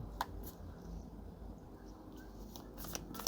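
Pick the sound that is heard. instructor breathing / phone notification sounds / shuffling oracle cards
shuffling oracle cards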